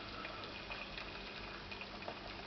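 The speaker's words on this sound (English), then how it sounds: "So in goes the hot water." Hot water poured into a thickening veggie cheese sauce in a home kitchen, a steady soft liquid rush with faint bubbling that runs throughout, ending in a brief louder clink.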